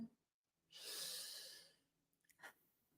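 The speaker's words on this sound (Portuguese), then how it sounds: "Solta pela boca, respiração profunda." A slow, deep breath drawn in and released, soft and close, followed by a brief quieter exhale.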